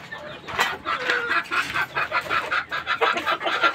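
Chickens in a backyard coop cluck steadily and fairly close, with overlapping calls and no talk.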